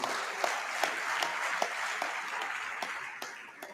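Audience applauding graduates at a convocation ceremony, a sustained, dense patter of many hands clapping at a moderate distance, with sharper individual claps standing out now and then.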